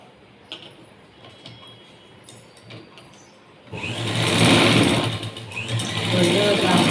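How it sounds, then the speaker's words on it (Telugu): A sewing machine stitches blouse fabric, starting suddenly partway through and running loud and steady to the end after a quieter stretch of faint clicks and room noise. "ఇలా దీని మీద పెట్టేసి స్టిచ్ చేసుకున్నాము."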